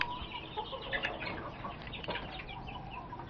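Five-month-old gamefowl roosters, Roundhead and Grey breeds, clucking at a gamefarm, several birds sounding in a busy overlapping chatter at moderate distance, steady through the whole stretch.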